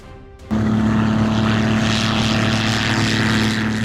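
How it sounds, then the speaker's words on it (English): A Spitfire propeller aircraft roars in flight, its engine drone jumping in suddenly after a quieter opening and then holding loud and steady with a strong low hum for a few seconds. "What do you think happened to the Spitfire that made it lose control like that?"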